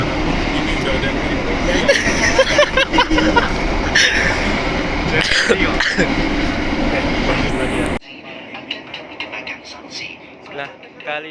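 Steady rumble and rattle inside the Sri Tanjung passenger train in Indonesia, carriage noise loud and continuous with people talking over it, then quieter and muffled for the last few seconds.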